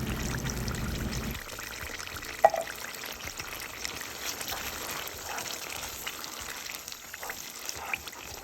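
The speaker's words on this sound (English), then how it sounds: "drain that water off of it, or the liquid from the can off of there" Liquid drained from a can of pigeon peas pours out in a steady trickle, loud for the first second or so and then thinning to a faint, uneven dribble with a few small clinks.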